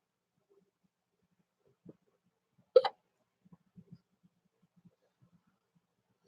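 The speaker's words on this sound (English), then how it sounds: "getting rid of my hiccups" A single sharp, loud hiccup from a person with stubborn hiccups, abrupt and close, followed by a few faint scattered small sounds in an otherwise quiet room.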